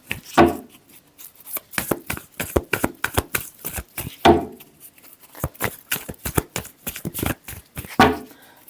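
Tarot cards are shuffled by hand in a series of quick crisp riffling snaps and slides, close and clear, coming in irregular bursts with brief pauses between them.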